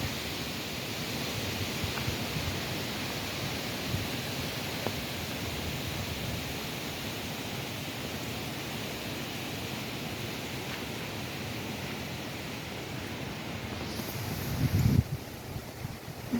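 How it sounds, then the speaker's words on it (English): Strong wind blowing outdoors with light rain, a steady broad roar with mic buffeting throughout and a brief louder gust near the end. "Wind has really picked up."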